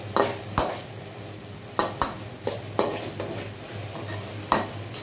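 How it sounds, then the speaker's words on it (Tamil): Onions sauté in a pan for a village-style fish curry, a soft steady sizzle broken by repeated close scrapes and clinks of a spoon stirring against the pan at irregular intervals, without speech. "வெங்காயம் நல்லா வதங்கிட்டு இருக்குங்க."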